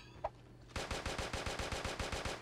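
Rapid automatic gunfire from a weapon in the video game Creative Destruction, a steady stream of evenly spaced shots after a brief quiet moment, loud and close with no talking.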